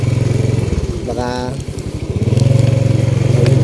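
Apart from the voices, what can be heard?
motorcycle riding on rocky muddy road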